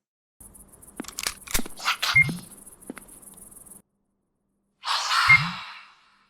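An eerie, breathy ghostly voice from a ghost-hunting game, sighing and gasping in a short jumble of sounds, then a pause and one more whispery moan.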